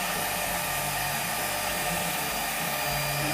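A CNC router spindle driven by a VFD runs at speed with a steady, loud, high-pitched whine and broadband airy hiss, constant and close, with no talk.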